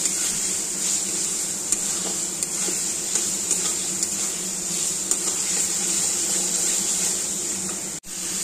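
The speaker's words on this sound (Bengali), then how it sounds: "পটল ডিম সব দিয়ে দেবো, ভাজা ভাজা হোক। এখান থেকে তেল ছেড়ে দিলেই দিয়ে দেবো ডিম আর পটল।" A spice mixture fries in oil in a pan before pointed gourd and eggs are added, giving a steady, close sizzle broken by light clicks of stirring.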